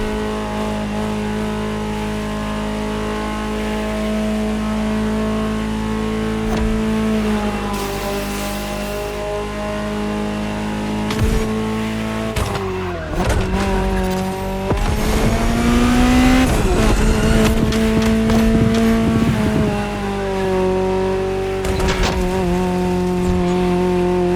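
Ferrari supercar engine from the racing game The Crew Motorfest, droning steadily with shifting harmonic pitch, then revving harder with a tire squeal and rising roar midway, loud and close throughout with no talk.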